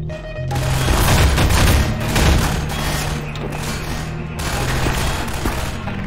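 Automated turret gunfire in a Half-Life 2 mod, a dense sustained fusillade of rapid shots with booming thuds and mechanical noise, loud and continuous throughout.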